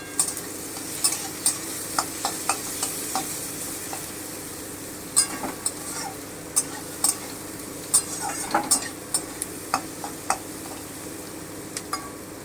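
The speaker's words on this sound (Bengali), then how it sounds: "হালকা একটু ভেজে নেব আমি পেঁয়াজটা" Chopped medium onions fry in a pan for capsicum chicken, a steady soft sizzle running throughout while a utensil scrapes and taps the pan in irregular bursts.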